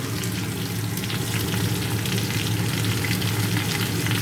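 Aloo posto with jaggery sizzles steadily in a pan, a dense continuous frying hiss with faint scraping from stirring underneath, close and without talk.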